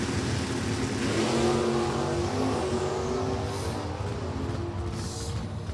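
An Oldsmobile drag race car accelerates down the strip with a loud, sustained engine roar that rises in pitch, then fades slightly as it pulls away.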